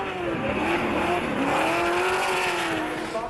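Drift cars squeal their tires through a tandem battle at the Perth round of the 2013 Australian Drifting Grand Prix, engines roaring loud and close with a sustained, wavering screech.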